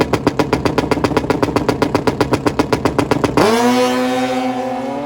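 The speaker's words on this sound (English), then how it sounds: "Two Busas ready to face off." Two Suzuki Hayabusa drag bikes, one with a wheelie bar and one without, launch side by side: a loud, close staccato idle burble cuts into a rising high-revving scream as they accelerate away.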